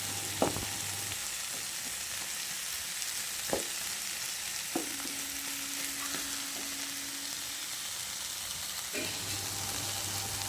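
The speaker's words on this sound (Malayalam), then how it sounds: "ഞണ്ടും ആ മസാലക്കൂട്ടും കൂടി നല്ലതായിട്ട് ഇളക്കി യോജിപ്പിച്ച്" Crab being stirred together with a masala mixture in a pan for crab roast, a steady soft sizzle with occasional sharp scrapes and clinks of the spoon against the pan, no voices.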